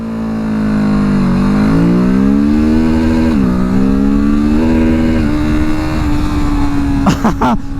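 A 650cc parallel-twin motorcycle revs hard and accelerates up through the gears, its loud close engine note climbing and dipping with each shift, then settling into a steady drone before a few sharp blips at the end.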